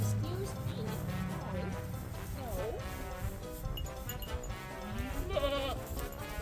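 Nubian and dairy goats on a small farm bleat several times in a pen, with a person talking over the animal calls.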